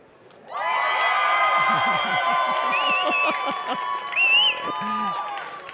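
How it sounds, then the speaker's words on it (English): Audience at a photography seminar erupts on cue into loud cheering, whoops and clapping, a sustained crowd roar with shrill voices rising over it, then fading after a few seconds. "I want you to clap, cheer, and freak out."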